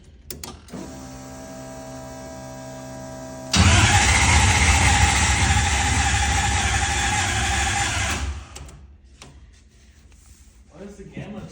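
A Toyota 1UZ turbo V8 swapped into a Subaru Legacy cranks with a steady whirring starter drone before catching into a loud, rough, continuous engine roar that holds for several seconds, then cuts off; people talk nearby.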